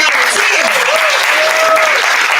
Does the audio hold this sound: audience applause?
yes